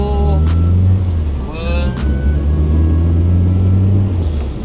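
Car with a gearbox converted from automatic to a 6-speed manual, engine loud and close, its note rising and falling as it works through the gears, with someone talking over it.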